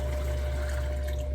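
Water is poured in while starch is mixed, giving a continuous, loud broadband rush of liquid with a steady low hum beneath it.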